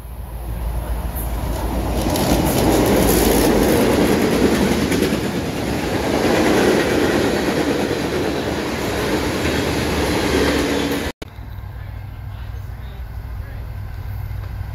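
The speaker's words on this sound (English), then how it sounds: "There's a lot of locomotives on this one." A long train with many locomotives passes a railroad museum at night, a loud steady rumble and clatter of wheels with a sharp break near the end, followed by quieter rolling.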